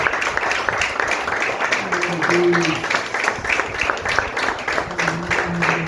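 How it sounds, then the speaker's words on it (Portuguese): A church congregation applauds steadily throughout, a dense wash of clapping beneath a preacher's voice calling out over it during a worship service. "Se você pode, aplauda o Senhor."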